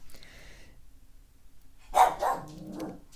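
A dog gives two or three quick barks close by after a stretch of near silence, the sharp bursts standing alone with no talk over them.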